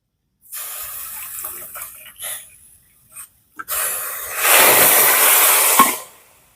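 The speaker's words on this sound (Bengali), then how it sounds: "দু বাটি চিনির জন্য দু বাটি জল দিয়ে দেবো" Water is poured into a pot of sugar for a thin syrup for chhena jalebi, with soft handling clatter first, then a close, rushing pour lasting a couple of seconds.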